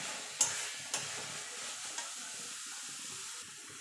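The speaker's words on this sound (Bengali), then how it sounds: "কাঁচা সর্ষের তেল এবার ভালো করে নেড়ে নেবো" Banana stem paste being stirred in a pan with raw mustard oil, giving a few distinct scraping knocks early on over a soft, steady sizzle, with no talking.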